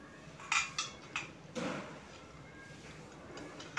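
A metal lid is set onto a cooking pot where fish boils with potato and papaya, giving several light clinks and scrapes, close up against quiet kitchen background.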